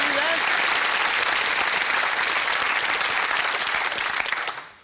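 Applause from a studio audience on a UK TV game show: a sustained, even roar of many hands clapping that swells steadily, then quickly fades out at the end.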